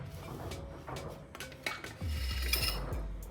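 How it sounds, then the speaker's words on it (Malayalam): A metal pan is pulled out and set down in a home kitchen, with soft scraping, a few clinks and a low thud of cookware close by and no talking. "ഒരു പാൻ എടുത്ത് വെക്കാം."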